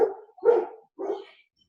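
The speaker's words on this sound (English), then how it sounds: "My dogs are on the attack." Dogs bark three times, gruff and fairly close, each bark separated by a short pause and ending in silence, with no talking.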